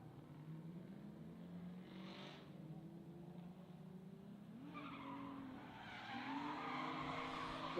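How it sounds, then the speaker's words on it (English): Two Nissan G35 drift cars with stock engines sliding at an event, tires squealing in long skids over engine drone, heard from a distance with a commentator talking over it. "Both sound like stock motor G35s"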